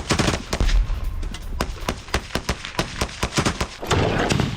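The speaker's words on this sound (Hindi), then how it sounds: "यूक्रेनी ठिकानों पर ताबड़तोड़ फायरिंग हो रही है" Rapid, loud gunfire from an attack on Ukrainian positions in Bakhmut, with sharp shots and bursts in an irregular, fast series throughout.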